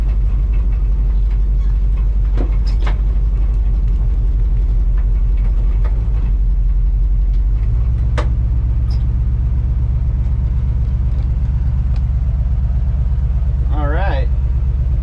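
The engine of a 1962 Chevrolet C10 truck is running loud and close. The engine note steps up in pitch partway through, and a voice is heard near the end.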